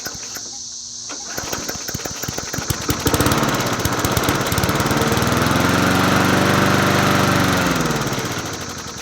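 A worn Huskee 22-inch push lawn mower engine sputters through a few uneven firing attempts, then catches and runs at a loud, steady drone close by, rising and easing back near the end.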